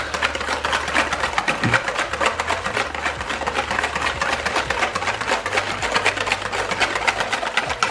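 A hand whisk beats eggs and sugar in a bowl for chocolate brownie batter, making a fast, steady, rhythmic clatter up close that runs for the whole stretch with no talking.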